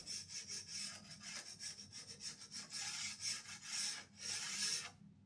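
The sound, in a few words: scraping sticky substance off wood tray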